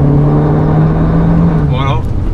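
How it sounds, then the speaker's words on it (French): A Honda CR-V engine drones steadily while driving in eco mode on a rainy road test, a loud, close, even cabin hum with a brief faint chirp near the end. "L'agrément moteur, je précise que nous sommes en mode éco"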